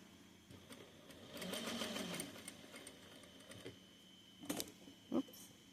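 A sewing machine stitches through stiff, hard-to-sew fabric for a sunglasses case, a quiet rapid mechanical clatter in a short run near the start, then a few isolated clicks and knocks close by.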